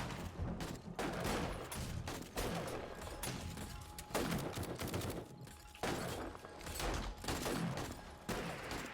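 An automatic turret in the video game 7 Days to Die fires bursts of rapid gunfire, dense and continuous, with clustered shots and short breaks across the stretch.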